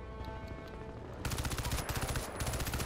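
Rapid machine gun fire in the game Crysis 2, a quiet stretch with faint shots giving way to loud, sustained automatic bursts with brief pauses.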